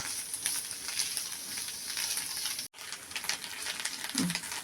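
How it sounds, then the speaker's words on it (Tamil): Watermelon rind sautéing in ghee gives a steady, close sizzle and crackle throughout, with a brief cut to silence partway and a light stir or clink near the end. "நெய்யில் நீங்கள் போட்டு வதக்கும் போது அந்த வாட்டர்மெலனோட ஸ்மெல்லே ஃபுல்லாக போயிடும்."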